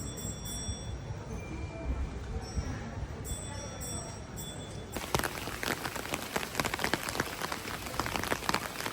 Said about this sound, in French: Bon, là, il pleut de ouf.